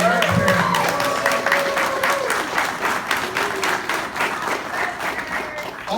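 An audience at a furmeet closing ceremony claps in steady, sustained applause that fills the room, with a voice speaking over the clapping.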